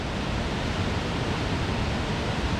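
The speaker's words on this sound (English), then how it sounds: "That waterfall is so cool." Water overflowing a man-made waterfall at a dam in Scotland, a steady broadband rushing roar with no voices.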